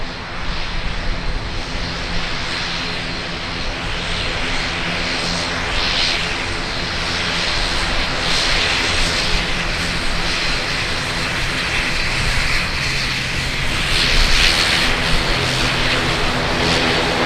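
Airbus A320 jet airliner engines roar steadily and loudly throughout at an airport, a broad rushing drone with slowly swelling intensity, no voices present.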